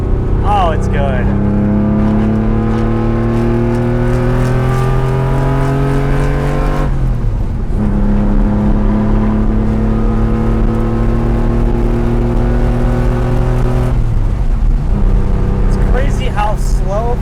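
Engine of a vintage Porsche 911 droning steadily while driving, its harmonic note rising through each gear then dropping at two shifts, loud and close throughout.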